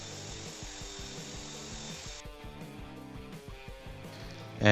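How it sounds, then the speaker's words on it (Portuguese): A belt sander grinds the edge of an EVA foam prop sword, a Kokiri sword replica, with a steady motor hum and abrasive rasping that drops in pitch partway through as the foam is pressed harder, ending in a sharp knock. "fui para minha lixadeira de cinta para refinar o formato"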